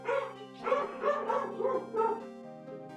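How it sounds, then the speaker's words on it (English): Several dogs bark and yip in quick repeated bursts over a steady humming musical background, the barks moderately loud and fairly continuous across the short stretch. "I don't know why they're barking so much."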